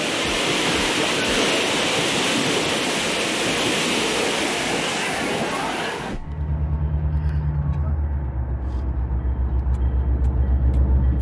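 Heavy rain pours down steadily, a dense loud wash that cuts off abruptly and gives way to a low rumbling hum with faint drips at a train stop.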